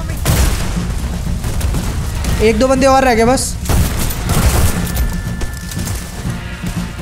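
Heavy booms of cannon fire in Red Dead Redemption 2 thud repeatedly amid gunfire and battle noise, while someone talks excitedly over it.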